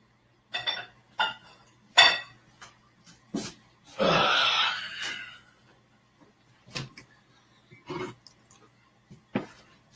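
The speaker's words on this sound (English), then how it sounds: "I need to empty this into the trash, all the eggshells, and put the bowl in the sink" Ceramic or glass mixing bowl, emptied of eggshells, set down in a kitchen sink: a few sharp clinks and knocks spaced across the stretch, with a longer rattling clatter of dishes in the middle, moderately close with no talking.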